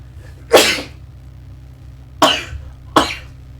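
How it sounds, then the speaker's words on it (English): Three sharp, loud sneezes close by, the first alone and the last two in quick succession, over a low background hum. "Pardon sneezing."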